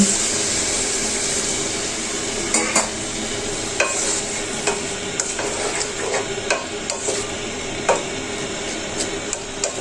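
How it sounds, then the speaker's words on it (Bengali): Water goes into sizzling spices in a pan, and a spoon scrapes and stirs in repeated strokes over a loud, continuous bubbling hiss. "মশলাগুলো কষানো হয়ে গিয়েছে পানি দিয়ে দিচ্ছি পানি দিয়ে একটু কষাই নেব"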